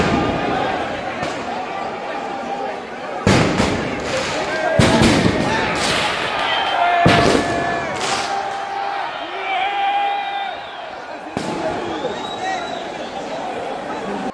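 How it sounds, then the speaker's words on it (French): Fireworks burst in the middle of a street crowd celebrating a PSG football win. Several sharp, loud bangs go off at irregular moments over a continuous murmur of crowd noise and voices. "Des feux d'artifice éclatent au milieu de la foule."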